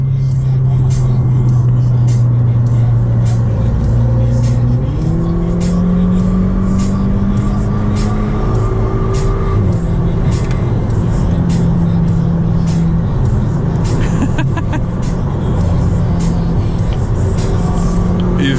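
Two Audi A3 turbo cars, a 1.4 Turbo and a 2.0 Turbo, roar as they accelerate hard in a street race, their engines droning loudly and continuously while the pitch climbs with each gear, with faint voices underneath.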